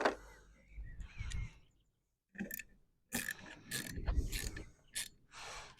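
Ratchet wrench with a 13 mm socket tightening a bolt on an Opel Corsa D: a few close bursts of quick metallic clicking, separated by short pauses.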